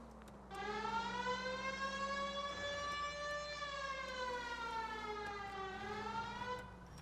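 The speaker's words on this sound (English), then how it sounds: "putting the siren on might remove the element of surprise from your hit and runs" Police car siren in the game L.A. Noire wails in long rising and falling sweeps, steady and fairly loud, with no talk over it.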